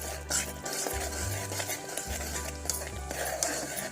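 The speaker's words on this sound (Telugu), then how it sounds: "ఒక చెంచా వేసుకొని పచ్చివాసన పోయే వరకు కలుపుకుందాం" A spoon stirs ginger garlic paste in a pan for natukodi pulusu, steady scraping and light metallic clinks close up, with a soft sizzle underneath.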